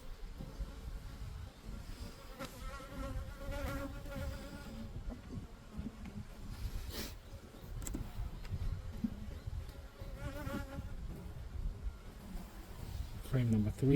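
Honeybees buzz steadily around an open hive during an early-summer inspection, a dense droning hum running throughout beneath occasional handling noises.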